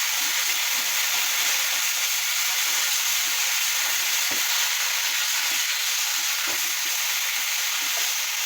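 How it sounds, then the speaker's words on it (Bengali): Ginger and garlic paste frying in hot oil as it is stirred, a loud, steady close sizzle with faint scraping of the spoon throughout. "এখন এতে দিচ্ছি আদা বাটা, রসুন বাটা, দিয়ে একটু নাড়াচাড়া করে নিই।"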